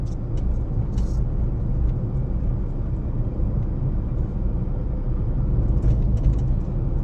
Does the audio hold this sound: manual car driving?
yes